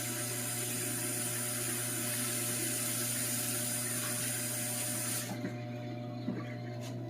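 A tomato is rinsed under a running kitchen tap, giving a steady, close hiss of flowing water for about five seconds before the flow stops and only faint handling sounds remain.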